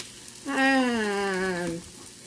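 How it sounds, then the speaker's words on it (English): A utensil stirs sauce in a hot frying pan, giving one drawn-out, wavering squeal that rises and then falls over a low sizzle, close and fairly loud, with no talking. "Giving my sauce a bit of a turn."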